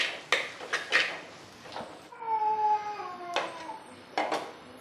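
Metal spoon scraping and clanking against a cooking pot while mixing munagaku (drumstick leaf) curry with dal: several sharp clinks, a brief pause, then more scraping clatter, close and fairly quiet.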